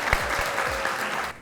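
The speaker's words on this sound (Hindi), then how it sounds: "तालियां।" A studio audience on a Pakistani celebrity talk show breaks into a short burst of clapping that cuts off after about a second.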